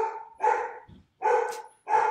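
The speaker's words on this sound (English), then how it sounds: "They're going to bark for a bit." Several dogs bark loudly and close by in sharp bursts, with short pauses and a small yip between them.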